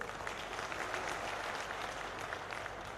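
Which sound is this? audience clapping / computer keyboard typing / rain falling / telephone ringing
audience clapping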